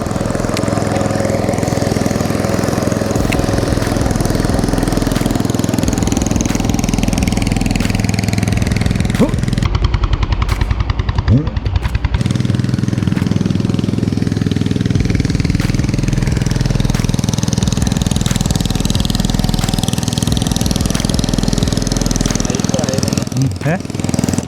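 A fishing boat's engine drones loud and close as it passes during snakehead fishing, a steady rough motor hum that briefly thins out midway before returning to full strength.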